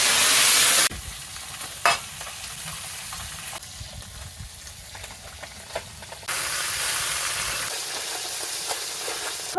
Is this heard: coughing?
no